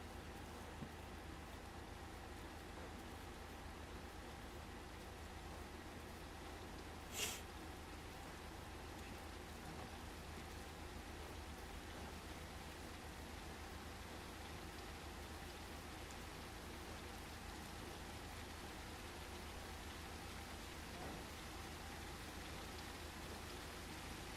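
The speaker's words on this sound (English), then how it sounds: "Oh, it's raining." Rain falls in a continuous, soft, even patter, a faint and steady hiss with one brief sharp tick partway through, and no voices at all.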